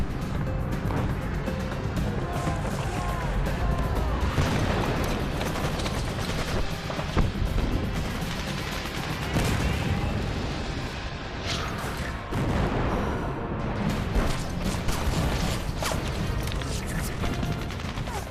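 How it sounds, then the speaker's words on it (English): WW2 battle scene with continuous dense gunfire and grenade explosions, a loud unbroken roar of rapid shots and blasts with sharp bursts throughout, no pauses. "From behind me, there's more gunfire, and then yet more gunfire in front of me"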